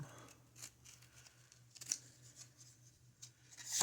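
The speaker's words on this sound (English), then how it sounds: "my knife is getting really dull here, working with this drywall" A dull utility knife trimming drywall, quiet scraping and short cutting strokes at an irregular pace, close and faint over a low hum, with a sharper scrape at the end.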